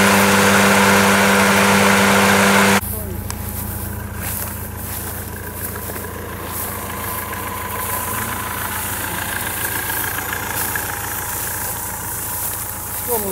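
A farm tractor engine runs steadily at close range while driving onto a hayfield, a continuous mid-pitched drone that follows a brief louder, tonal burst at the very start.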